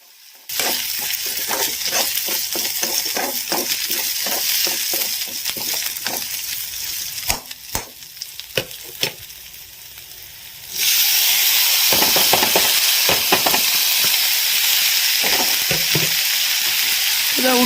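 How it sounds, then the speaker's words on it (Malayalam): Crushed spices, onions and slit green chillies sautéing in a pan for fish curry: a steady close sizzle with repeated spatula scrapes and taps, the frying growing louder and brighter partway through. "ഇതൊക്കെ ഒന്ന് നന്നായിട്ട് വാട്ടിയെടുക്കുക"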